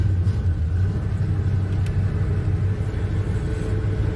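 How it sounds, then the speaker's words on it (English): A Chevy C10 truck's carbureted engine runs with a steady, loud low rumble close by, holding an even idle throughout with no voices over it. "This thing should crank right up as soon as gas gets to the carburetor."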